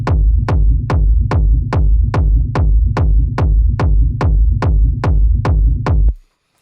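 Hardgroove techno bassline from a wavetable synth locked with a kick drum, about thirteen steady punchy thumps with deep booming lows in a driving even pulse, loud and close, then stopping abruptly.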